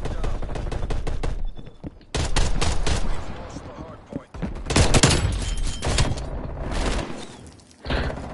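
Rapid gunfire in Call of Duty, dense bursts of automatic shots with booming impacts, loud and close, broken by a couple of brief pauses, over a cluttered game mix.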